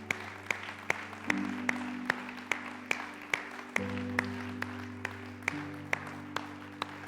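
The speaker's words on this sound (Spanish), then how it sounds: "¿Qué tal si le damos un aplauso al Señor?" Church congregation applauding during a worship service, a steady crowd clapping heard fairly softly beneath sustained organ or keyboard chords, with a regular rhythmic beat running through.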